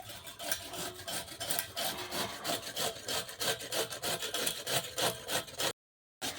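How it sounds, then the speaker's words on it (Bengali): Fresh amla being grated by hand on a metal grater, a steady rasping scrape repeated in quick strokes, close and fairly loud, with a brief silent gap near the end. "গ্রেটারের সাহায্যে আমি গ্রেট করে নিচ্ছি"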